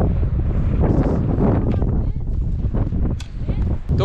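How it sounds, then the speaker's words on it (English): Strong wind buffets the microphone on Illgill Head, a Lake District fell summit above Wastwater, giving a loud steady rumbling roar with gusty swells throughout. "The wind started to die down a bit, but it's still bad."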